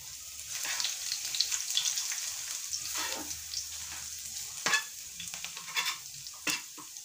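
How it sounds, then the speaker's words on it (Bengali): Chopped garlic, ginger and split dried red chillies sizzle in hot oil for a pickle, a steady crackling fry punctuated by a few sharp spatters and soft stirring scrapes, with no talking. "রসুন কুচি দিয়ে দিচ্ছি। আর দিয়ে দেব দুটো শুকনো লঙ্কা মাঝ বরাবর চিড়ে।"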